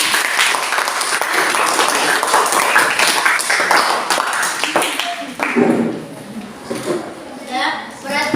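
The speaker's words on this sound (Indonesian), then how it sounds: "Semua tepuk tangan buat kelompok 5." A class of students applauds for group 5 during a discovery-learning lesson, a sustained, dense burst of clapping that thins and tapers toward the end, with voices mixed in.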